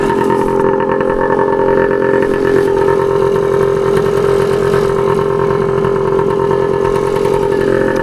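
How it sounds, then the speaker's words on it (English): The single-cylinder engine of a restored 1981 Suzuki DS100 trail motorcycle idles steadily and loudly close by, with an even, unbroken throb and no revving. "Bring it idle down a little bit."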